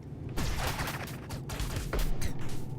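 Rapid shooting from Owlboy on Xbox One crackles in quick, dense bursts for a few seconds, fairly quiet, with no talking.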